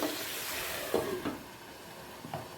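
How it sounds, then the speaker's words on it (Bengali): Butter pepper chicken simmering in a pan over a low flame, a soft steady sizzle and hiss with a few brief stirring scrapes, close and quiet, no talk. "লো ফ্লেমে কিছুটা সেদ্ধ হতে দেব"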